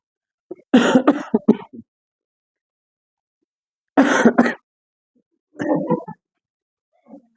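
Three separate bursts of coughing, close and fairly loud, each a quick cluster of harsh hacks with silent gaps between them.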